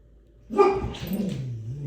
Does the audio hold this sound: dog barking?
yes